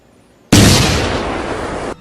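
Explosion in a film scene, a sudden loud blast that bursts in and roars steadily for about a second and a half before cutting off abruptly, alone with no voices.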